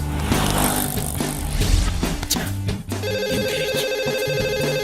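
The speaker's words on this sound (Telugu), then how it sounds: "ఈ ఫోన్ కాడే చేస్తున్నట్టున్నాడు" A mobile phone rings with an incoming call, playing a melodic electronic ringtone that repeats in a steady tonal pattern, fairly loud over busy background noise.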